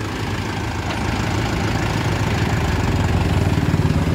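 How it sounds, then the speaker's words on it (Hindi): A Mahindra 575 DI tractor on 14.9-28 tyres runs steadily nearby, its diesel engine giving a loud, continuous low rumble with a faint rhythmic throb that builds slightly toward the end. "आवाज़ सुनिए क्या शानदार आवाज़ है"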